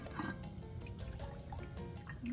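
Liquid pours and splashes into a pan in short, uneven gurgles, close and fairly quiet.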